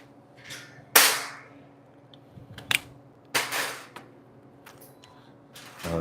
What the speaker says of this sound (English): Now that I got the welder turned up, it's feeding back a little bit.